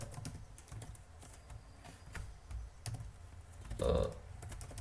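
Python code being typed on a computer keyboard: soft, irregular key clicks scattered throughout, with a louder cluster near the end, quiet and close with no talk over it.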